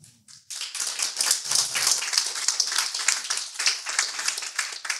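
A crowd at the CGIAR Climate Security Observatory launch in Geneva bursts into sustained applause, dense close hand-clapping that holds steady for several seconds after a brief quiet start.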